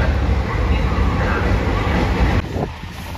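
A JR Shikoku red Anpanman limited express, the Nanpu, rumbles past loud and close with heavy rolling noise that eases slightly near the end, a voice faintly present.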